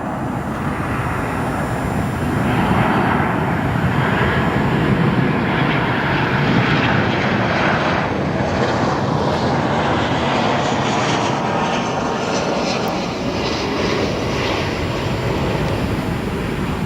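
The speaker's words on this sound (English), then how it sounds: "Here comes our American Airlines next arrival" An American Airlines airliner arriving at Chicago O'Hare produces a loud, constant engine roar with a wide rushing quality that stays steady and close throughout, with no voices over it.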